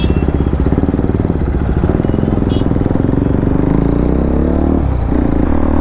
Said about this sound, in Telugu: అరే బైకులు లేపరేంట్రా?